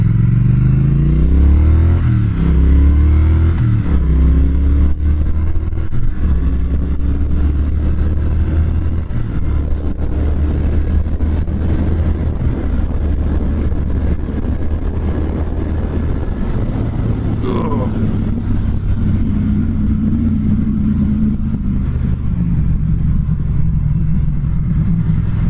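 A 2019 Triumph Speed Twin motorcycle on the move: a loud, close engine that revs and rises through the gears, then settles into a steady rumble with wind and road noise around it.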